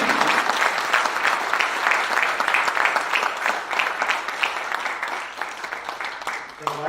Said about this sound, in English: a big round of applause to her who comes